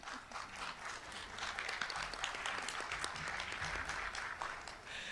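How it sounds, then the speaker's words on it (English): Steady audience applause fills a room at a museum repatriation gathering, many hands clapping continuously at moderate distance without pause. "I know you're clapping for the nation"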